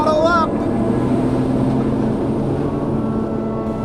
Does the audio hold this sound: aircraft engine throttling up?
yes